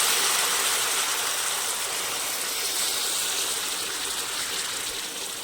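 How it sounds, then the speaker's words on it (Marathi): Hot water pours into a pan of ridge gourd in a continuous, bright rushing splash, close and steady for the whole stretch, slowly easing slightly toward the end. "आणि मग ह्याच्यात आता आपण गरम पाणी ओतूया"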